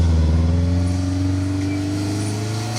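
A rally car on an asphalt rally stage sounds out as a loud, steady engine drone with strong low harmonics, close by and sustained, tapering slightly as it passes.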